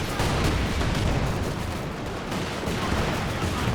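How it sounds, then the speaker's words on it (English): Artillery barrage in the real-time strategy game Company of Heroes 2, shelling an anti-tank gun: dense, continuous rumbling blasts and crackling impacts layered throughout, loud and sustained with no pause. "Artillery barrage though on the AT gun."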